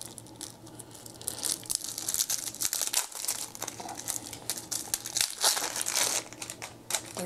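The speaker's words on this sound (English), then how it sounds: "And I'll open up these cards here." Cellophane wrapping is crinkled and torn off a pack of cards from the Castaways board game, a continuous close crackling rustle that runs throughout with louder bursts and no talking.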